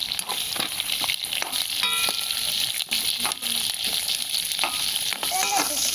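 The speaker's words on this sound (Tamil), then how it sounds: "வதக்குங்க சேர்த்து" Chillies and onions sauté in a hot pan for a village-style anchovy dried-fish curry, a steady close sizzle broken by scraping ladle strokes and a few clinks throughout.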